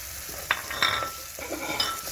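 Tomatoes and salt frying in a pilau pot while a spoon stirs them: a soft, steady sizzle broken by a few sharp scrapes and clinks of the utensil against the pot, close up.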